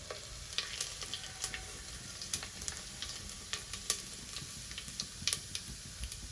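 Cumin seeds and peppercorns crackle and sizzle in hot oil in a pan, a steady faint fry with scattered sharp pops and ticks, no voices.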